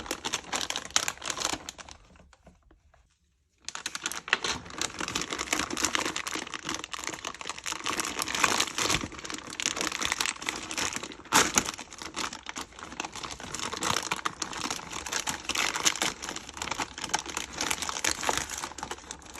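Plastic packaging is pulled and crumpled off the parts of a 1:8 scale Ferrari F40 Competizione model kit issue, a close, continuous crinkling and tearing that runs almost throughout after a short quiet pause near the start.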